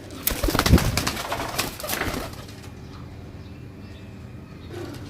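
Pigeons coo close by in a loose rhythm. A brief burst of wing flapping comes early, and the sound then settles into quieter ambience, with no talk.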